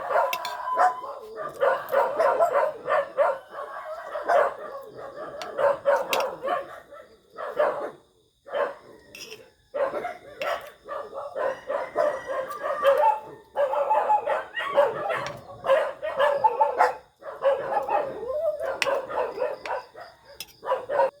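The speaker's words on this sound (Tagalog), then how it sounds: "May taong dumadaan guys. Tinatahan ng mga aso ko." Several dogs bark continuously and excitedly at a passerby before dawn, overlapping yips and bow-wows with brief lulls, fairly close and loud.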